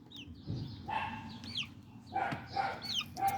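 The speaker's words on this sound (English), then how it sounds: "I know you hear the dog." A dog barks on a farm among chickens: short bursts of barking come and go over several seconds, mixed with high chirping calls from the birds nearby.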